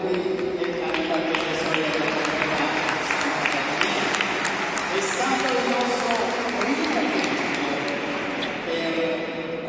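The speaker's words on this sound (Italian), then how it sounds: "Un applauso per favore alla nostra comunità" Congregation applauding inside the church of Santa Caterina at the opening of a parish pastoral year, a dense steady wash of clapping lasting throughout with voices mixed in beneath it.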